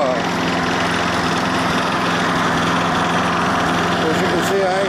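A Craftsman lawn mower bought secondhand runs steadily and loudly up close, its small engine droning with a constant throb throughout.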